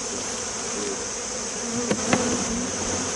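Honey bees buzz at a hive during autumn preparation, a steady close drone with a couple of brief louder passes from individual bees.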